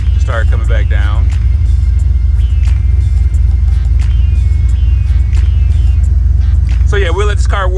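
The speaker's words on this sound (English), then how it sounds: "we'll let this car warm up and see what it does" An SN95 Ford Mustang engine idles while warming up with a steady low rumble, close by, after a fuel pump modification, while people talk briefly at the start and end.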